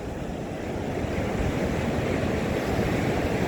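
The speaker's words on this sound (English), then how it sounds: "Here's another spot right here where the water naturally comes to drain into the ocean." Ocean surf rushes in a steady, broadband roar where river water drains into the sea along a cliffside coast, with wind buffeting the microphone, continuous and loud with no voices.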